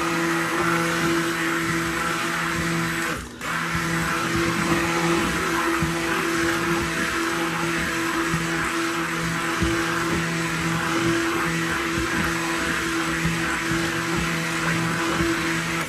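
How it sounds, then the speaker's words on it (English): Stick blender runs continuously in a batch of cold process soap batter, a steady close, loud motor whine and churning with one brief dip near the start, no speech. "Let's get this blended up."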